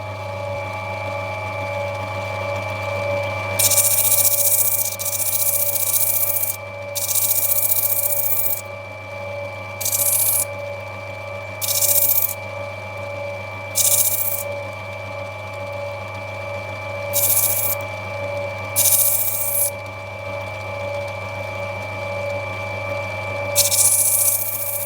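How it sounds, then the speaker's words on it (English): An opal stone is sanded on a powered lap over a steady motor hum, with repeated bursts of gritty hiss as the stone is pressed on and lifted off in irregular intervals. "Sand's going to go through a fair bit,"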